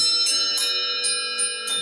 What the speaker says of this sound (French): Je fais sonner les cloches